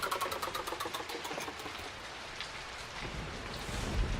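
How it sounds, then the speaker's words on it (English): Rain falls steadily in the video game Mountain Crime: Requital, a soft, continuous patter with a dense hiss and faint rhythmic drips early on, heard alone with no voices. "Rain, rain, and more rain."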